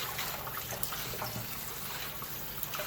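Tap water runs steadily while a soft-shelled crab is washed and cleaned, a constant close splashing rush with faint trickles and no voices.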